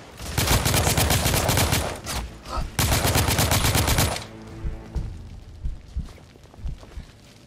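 Heavy bursts of gunfire from a sniper in the video game The Order: 1886, dense and loud for the first four seconds, then thinning to scattered shots and impacts.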